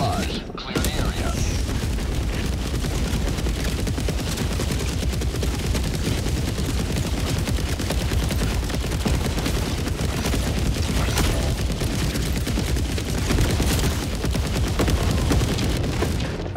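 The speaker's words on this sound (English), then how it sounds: "Firing orbital barrage." Orbital barrage strikes in the video game Helldivers 2, a dense, loud, continuous wall of booming explosions and rattling gunfire that keeps up without a break, with faint voice under the din.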